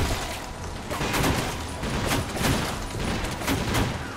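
Gunfire in the first-person shooter TimeShift, a dense fusillade of repeated shots and impacts running steadily throughout, loud and close with no talk.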